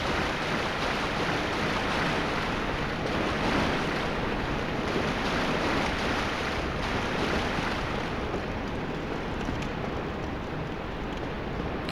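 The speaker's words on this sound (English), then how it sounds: "Where's that water coming out?" Rushing water in the dark depths of Dark Souls Remastered, a steady, dense wash of flowing water filling the whole stretch without pause or voices.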